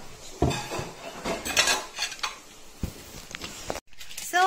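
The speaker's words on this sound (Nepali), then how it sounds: "बर्तन भाँडा धुँदैछ" Dishes and plates being washed, with sharp clinks and clatters of crockery and cutlery knocking together, irregular close-up bursts between quieter moments.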